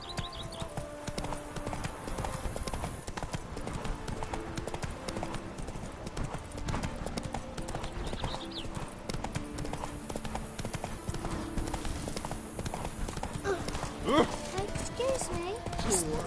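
Roach, a horse in a PS4 video game, clip-clops steadily at a walking pace, its hooves in an even rhythm under game ambience, with a person talking over it and a brief snort near the end.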